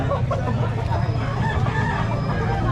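Roosters and chickens at a busy poultry market in Lemery, Batangas, crowing and clucking close by over a constant murmur of crowd noise.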